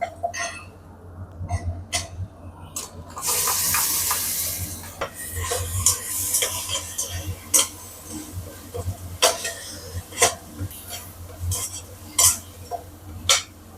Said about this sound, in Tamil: இஞ்சி பூண்டு போட்டு ஒரு ரெண்டு நிமிஷம் நல்லா வதங்க